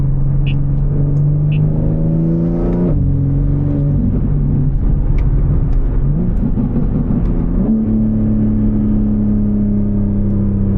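A 700 hp BMW M3 G80 engine revs hard through rising gears, a loud throaty exhaust droning steadily with brief shifts in pitch between pulls.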